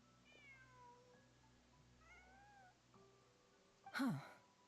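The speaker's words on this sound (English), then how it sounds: "Just a cat" A cat meows once in Genshin Impact, a short, loud, rising-then-falling call that stands out clearly over soft game music with melodic tones.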